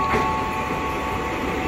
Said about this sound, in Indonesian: Ada kereta api.